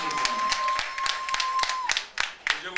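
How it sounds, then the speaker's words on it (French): A few people at a Lions club meeting clap in slow, spaced-out beats, close by, while a voice talks over the clapping. "Mes amis, applaudissez pour moi."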